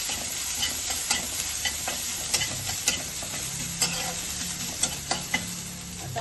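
Ginger and garlic hit frying spices in a pan, a close steady sizzle punctuated by sharp spatula clicks and scrapes as the mixture is stirred.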